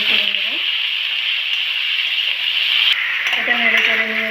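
Ghetkul frying in a pan with onion and garlic, a continuous close sizzle with a voice speaking briefly near the start and again toward the end.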